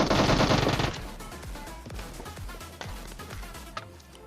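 SCAR-L assault rifle fire in PUBG Mobile: a dense, loud burst of rapid shots, then a steady run of single and paired shots with distinct thumps, close and alone.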